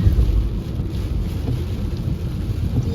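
Heavy rain pouring steadily outdoors with a deep rumbling undertone, loud and continuous with no voices.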